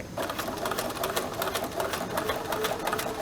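A sewing machine stitches steadily, backstitching over the original seam to lock a knot and then running forward again, its rapid even whirr close and continuous without pause or talk.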